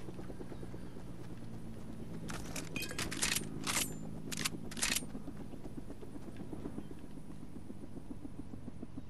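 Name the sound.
helicopter flying in Fortnite video game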